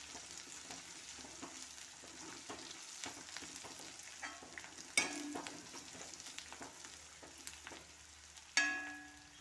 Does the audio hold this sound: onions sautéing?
yes